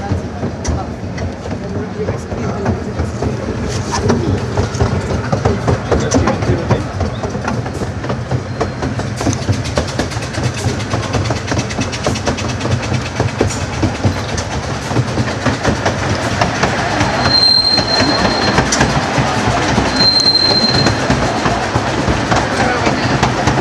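Train rolling over a viaduct bridge, a steady loud rumble with clickety-clack rhythm throughout and a couple of brief high squeals near the end.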